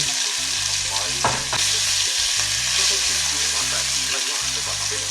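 A stir-fry of onion and garlic sizzles loudly in a pan, a dense steady hiss with scraping stirs and a few clatters, while a low tonal hum runs underneath, close up and without speech.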